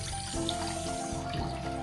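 Water pours into a cooking pot for ginataang bilo-bilo, a quiet running splash with a few resonant tonal notes from the filling vessel, no talk.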